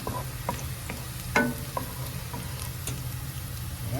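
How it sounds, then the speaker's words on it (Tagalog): Garlic and onion sautéing in a pan for adobo, a steady soft sizzle with scattered stirring scrapes and clicks, one louder utensil knock partway through, close and moderately quiet. "Igisa ang bawang at saka sibuyas"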